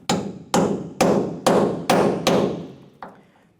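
Hammer tapping a Torx bit into a tailgate hinge bolt on a Ford Ranger: six sharp, close metallic strikes about half a second apart, then a softer seventh tap with short ringing decay.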